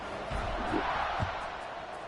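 A home crowd roars in a college football video game, Missouri State against Baylor, as a steady wash of stadium noise with a couple of low swells, heard alone and at moderate distance.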